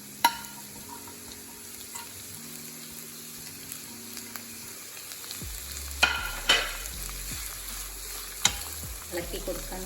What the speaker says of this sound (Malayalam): വല്ലാതെ ഫ്രൈ ആവണ്ട, ചെറുതായി ഒന്ന് ഫ്രൈ ആയി വരുമ്പോൾ നമുക്ക് വെജിറ്റബിൾസ് ഇട്ട് കൊടുക്കണം